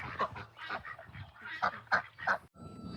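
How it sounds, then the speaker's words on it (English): Guinea fowl in a chicken coop giving a run of loud, harsh honking calls in uneven bursts, close by, with some faint background noise between cries. "Look, this is a guinea."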